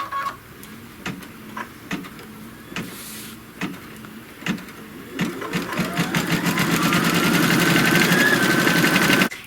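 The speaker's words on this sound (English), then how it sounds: "now it's going to stitch the body" A sewing machine stitches a butterfly body in black thread, starting with spaced single clicks and short bursts, then settling into a rapid, continuous mechanical whir that builds and holds loudly to the end.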